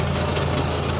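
Tractor engine running steadily close by with a constant low rumbling drone and broad mechanical noise, no talk over it.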